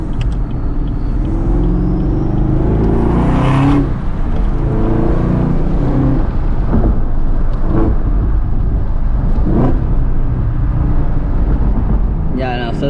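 A stock 2019 Chevrolet Camaro ZL1 1LE roars as it drives, deep engine rumble rising and falling through revs and gear changes over thirteen seconds, loud and close, with someone talking over it.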